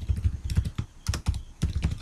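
Rapid keyboard typing on a computer while entering names into code, close and fairly loud, in uneven bursts of keystrokes with short pauses, no voices.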